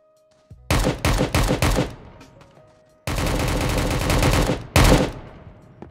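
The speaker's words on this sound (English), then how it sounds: "I'm getting shot at" Bursts of automatic gunfire in the shooter game Project Delta, set at a military airfield: several sharp volleys, then a long sustained stream and a final loud burst, close and loud with no talk.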